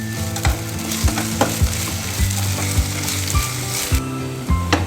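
Ginger garlic paste sizzles in hot oil with onions for mutton chukka, a loud steady frying hiss broken by regular scraping knocks of a spatula stirring the pan, with no talk.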